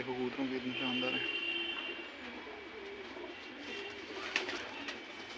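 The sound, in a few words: pigeons cooing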